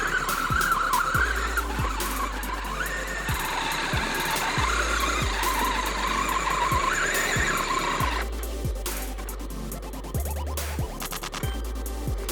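An RGT Pro Runner crawls along a greasy clay and muddy bushland trail, its motor whining steadily with tires slipping and scrabbling through the mud for the whole stretch, loud and close with no talking.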